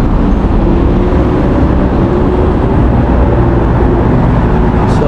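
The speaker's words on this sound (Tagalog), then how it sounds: "dami ng sasakyan." Dense highway traffic rushes past at dusk near a police station, a loud, unbroken roar of engines and tyres filling the whole stretch with steady low rumble.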